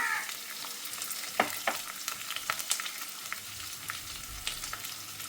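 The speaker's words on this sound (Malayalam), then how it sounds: "സവാള കട്ട് ചെയ്തതാണ് ഇതിട്ട് കൊടുക്കുക പെട്ടെന്ന് വാടി കിട്ടാൻ വേണ്ടി കുറച്ച് ഉപ്പിട്ട് കൊടുക്കുക" Sliced onions sprinkled with salt sizzle and fry in a pan for chicken curry, a steady close crackle with sharper pops and stirring scrapes throughout, no voices.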